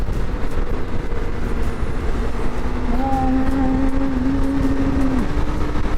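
A BMW K1600 GT motorcycle engine drones steadily while riding, mixed with broad wind and road rush, and its pitch rises and holds as the revs climb midway through.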